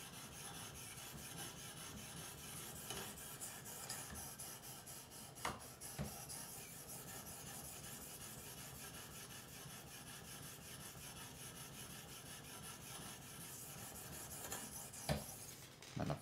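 A Kershaw Launch 13 knife is sharpened on a 1,000 grit stone in a TS Prof Pioneer system, giving faint, steady back-and-forth rubbing strokes with a couple of small clicks and no talk.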